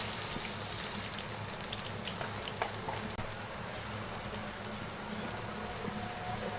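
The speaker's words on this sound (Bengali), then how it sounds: "পেঁয়াজটা একটু ভেজে নেব।" Onion frying in oil in a pan: a dense, even sizzle crackles steadily throughout, close and alone, with a few faint clicks.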